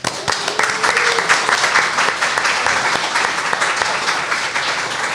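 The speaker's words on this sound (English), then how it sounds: "So another round of applause for them." An audience at a live photography podcast event in a London shop claps enthusiastically in steady, dense applause lasting several seconds.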